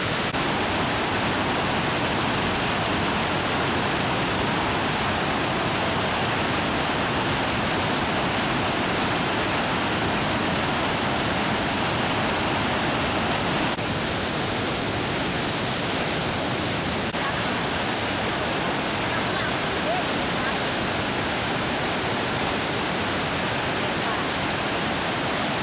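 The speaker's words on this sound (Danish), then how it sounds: "Det er utrolige kræfter, der er i det her vandfald." A powerful waterfall at Don Som roars in a steady, loud, unbroken wash of water noise that holds evenly throughout with no talk over it.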